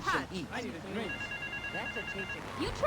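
A telephone rings in the video game Grand Theft Auto III, a steady electronic ring tone running for over a second beneath ongoing talk and in-game engine and vehicle noise.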